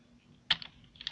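A short burst of keystrokes on a Logitech K480 Bluetooth keyboard: a sharp close click followed by a couple of lighter taps, then one more crisp press, all in quiet surroundings.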